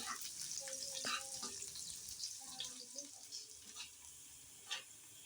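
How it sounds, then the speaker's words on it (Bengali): Chopped onion and garlic frying in a pan over medium-low heat for a raw papaya dal, a faint, even sizzle with a few soft stirring clinks and scrapes. "পেঁয়াজ রসুনগুলোকে আমি সময় নিয়ে ভেজে নেব যতক্ষণ পর্যন্ত না ব্রাউন কালার হয়ে না যায়"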